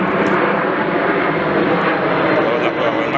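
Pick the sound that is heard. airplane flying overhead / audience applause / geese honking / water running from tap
airplane flying overhead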